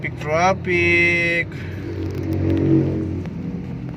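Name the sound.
cars in traffic jam in Malolos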